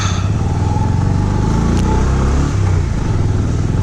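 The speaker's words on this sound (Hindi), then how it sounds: "बाइक ताकत नहीं लगा रही है।" A 125cc Pulsar motorcycle engine drones loudly and continuously, laboring with a rough, strained tone and slight rises in revs, riding off-road through snowfall in winter Spiti.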